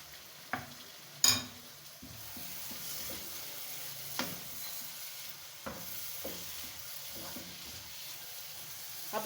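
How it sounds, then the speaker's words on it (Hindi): Dal roasting in a pan with ginger and kasuri methi (fenugreek) gives a soft, low sizzle, with occasional spoon scrapes and one sharp metallic knock near the start. "अब हम दाल को अच्छे से भून लेंगे।"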